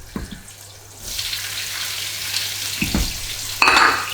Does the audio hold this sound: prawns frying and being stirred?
yes